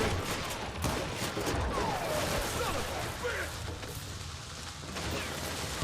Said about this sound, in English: I can't even see who's shooting me